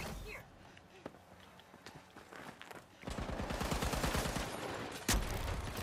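Gunfire in the video game The Finals, a fast rattling automatic burst in the second half that ends in a sharp blast, preceded by scattered shots and footsteps, with a player talking over it.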